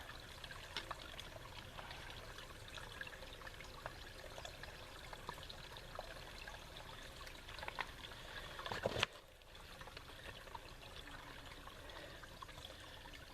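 Water trickles and splashes steadily on a hiking trail near Malans Peak, Ogden, Utah, a soft, continuous outdoor flow with one sharp knock near the end.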